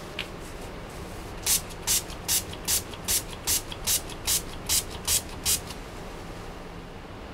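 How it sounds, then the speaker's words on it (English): Developing reagent sprayed onto a thin layer chromatography plate in a lab: a steady series of about twelve short, even hissing bursts in regular rhythm, close by, with no talking. "we need to spray our plate with a developing reagent."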